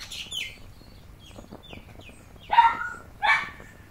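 A neighbour's dog barks several times in the distance, with a few scattered yelps followed by two louder, closer barks near the end.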